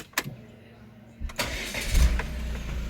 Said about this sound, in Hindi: गाड़ी भी हमारी स्टार्ट हो गई है